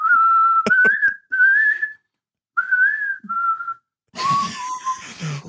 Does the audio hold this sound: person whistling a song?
yes